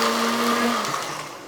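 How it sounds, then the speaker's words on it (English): A blender whizzes ingredients with olive oil, a loud continuous whir for about a second and a half that drops slightly in pitch and fades toward the end. "We're going to pop the blender cap on this and give these a little whiz up first"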